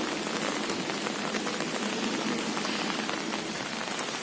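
Steady heavy rain falls on surfaces, a dense, even patter that stays constant and close with no voices.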